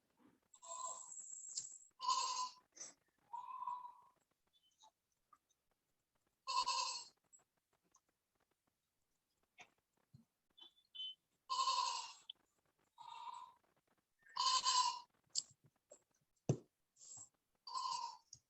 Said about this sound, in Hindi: म्यूट कर लो, एक साइड से बकरी का आवाज आ रहा है।